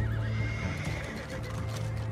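A horse in the Red Dead Online video game lets out a loud, drawn-out neigh and whinny close by, alone with no talk.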